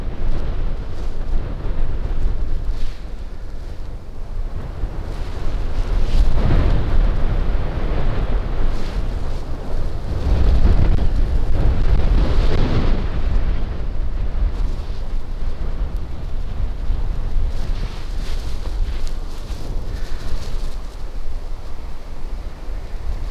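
Strong wind gusts buffet the microphone in roaring surges on an outdoor landscape in the Faroe Islands, swelling loudly around the middle then easing back to a steady blustery rush.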